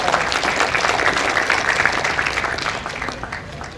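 An audience at an engineers' professional registration ceremony in Lima claps in sustained, dense applause that fills the hall, tapering slightly toward the end.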